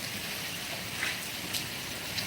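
Heavy monsoon rain pours down in a dense, even wash of patter and hiss, with no breaks and no voices across a short stretch.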